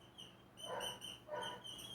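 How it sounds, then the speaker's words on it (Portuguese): Neighborhood dogs bark faintly in the distance in two brief bursts. A steady high-pitched background whine runs underneath, and no one speaks. "Os cachorrinhos das vizinhanças começam a latir"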